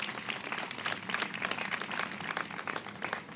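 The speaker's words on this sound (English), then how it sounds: "Let's give them a round of applause." An audience claps for a soccer team at a mayor's event, a continuous patter of applause of moderate loudness that stays fairly even and is heard alone.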